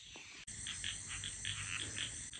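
Frogs croak in a steady overlapping chorus from Balinese rice fields at night, a dense pulsing ribbon of calls over a faint background hum, heard at a moderate distance with no talk.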